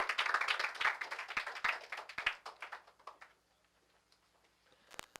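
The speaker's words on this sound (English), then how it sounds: "Let's give a round of applause for Matthew Dubois." Audience applause and clapping at a high school poetry reading greet a student poet, dense and lively for about three seconds before thinning to scattered claps and a few final taps.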